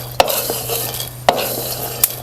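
Peanuts are being dry-roasted in a pan, with a soft continuous rustle as they are stirred and three sharp clacks of a utensil striking the pan at regular intervals.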